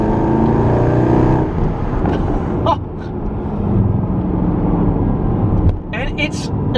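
Mercedes-AMG SLS engine pulling hard while driving, a loud continuous roar with rising harmonics, dipping briefly around gear changes and swelling again, with a voice talking over it throughout.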